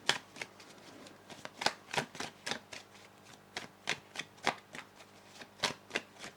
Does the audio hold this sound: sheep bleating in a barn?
no